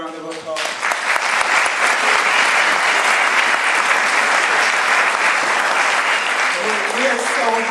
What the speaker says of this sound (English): So please give Kevin another round of applause.